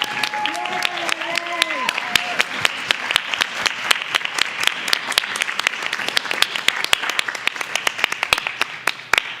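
Applause at a school board meeting as parents of student scholars stand to be recognized: steady, fairly close hand clapping from an indoor audience with sharp individual claps, a brief voice heard at the start.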